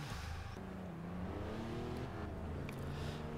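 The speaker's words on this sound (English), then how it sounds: "Now it's time to take the car to the motorway, see how fast it goes in a straight line." KTM X-BOW sports car engine in Forza Horizon 2 accelerating on a motorway, a steady loud engine drone with rising harmonic tones as it gains speed, continuous throughout.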